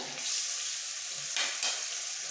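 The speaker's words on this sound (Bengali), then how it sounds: "তেল ভালোভাবে গরম হয়ে গেছে দিয়ে দেবো রসুন কুচি বড় চামচে এক চামচ রসুন কুচি আদা গ্রেট করা আদাটা" Chopped garlic and grated ginger fry in hot refined oil with a steady, bright sizzle, close and moderately loud, broken briefly by stirring scrapes.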